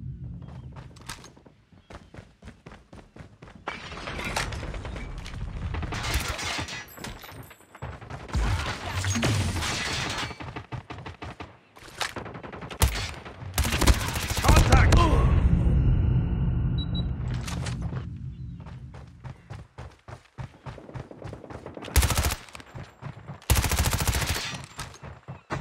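Video game gunfire crackles in bursts of rapid shots and single reports, mixed with thuds and crashes, while a voice calls out between the volleys.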